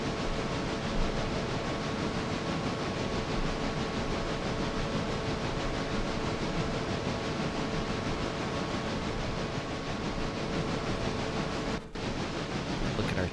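A heavy freight train of pulpwood cars, coal hoppers and boxcars labors up a steep 2% grade in the Railroader video game, a steady dense locomotive rumble and hiss with one brief clunk near the end.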